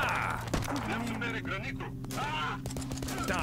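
Gunfire in the video game Broken Lines, with a sharp crack early on and scattered lighter shots under game music and a voice talking.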